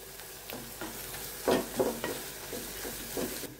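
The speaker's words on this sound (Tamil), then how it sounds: "இப்போ இந்த மசாலாவை வந்து நம்ம இந்த சிம்லேயே வச்சு ஒரு 1 மினிட் வந்து நல்லா வந்து வதக்கி விடுங்க." Onion and green chilli masala being sautéed and stirred in a pan for masala dosa, with soft sizzling and repeated scraping stirs of the spatula, close and moderately quiet, no talking.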